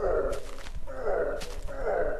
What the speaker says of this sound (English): a very ogre-like sound, what you'd expect an ogre to sound like